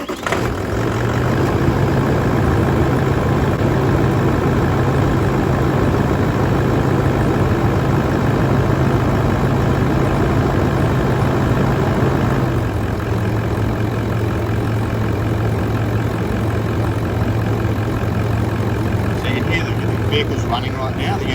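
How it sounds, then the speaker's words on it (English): A Toyota Landcruiser 200 series engine idles with a constant low, steady drone, heard up close while someone talks over it throughout. "Vehicle's running right now, the engine's running,"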